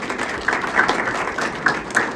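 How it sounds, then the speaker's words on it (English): Audience applause closing a seminar on AI for musicians, a moderate, somewhat sparse patter of clapping with a few sharper individual claps standing out. "huge round of applause for you guys again"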